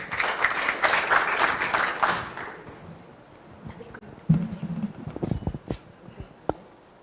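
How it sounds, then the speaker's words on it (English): Audience at a medical scientific conference applauding a presenter, a dense burst of clapping for about two seconds that thins out, followed by scattered footsteps, shuffling and handling noises in the room. "Let's give her a round of applause."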